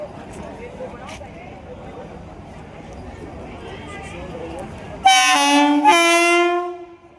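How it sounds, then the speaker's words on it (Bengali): A Vande Bharat train bound for Katra stands at a station platform. Low rumbling and murmuring voices give way to a loud, sustained multi-tone horn blast that fades out at the end. "ফাইনালি বন্দে ভারত চলে এসেছে দাঁড়িয়ে গেছে প্ল্যাটফর্ম নাম্বার তিনে"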